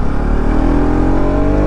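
A KTM RC200 or RS200 motorcycle engine revs loudly and close by, a rough, steady roar whose pitch climbs slightly as the throttle opens, with nothing else heard over it.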